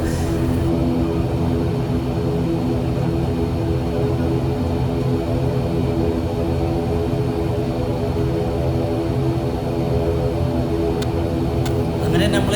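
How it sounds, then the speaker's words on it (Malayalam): An ATR turboprop airliner lands at Salem airport on a flight from Kochi, its propellers giving a loud, constant cabin drone throughout, with a person talking over it. "ഒരു കുഴപ്പമില്ലാത്ത ലാൻഡിങ് ആയിരുന്നു ഈ എ ടി ആറിൻ്റെ ഈ ലാൻഡിങ്"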